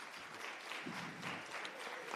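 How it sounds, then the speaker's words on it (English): An audience at a government report launch applauds, steady clapping at moderate volume lasting a couple of seconds. "I think she does deserve a round of applause."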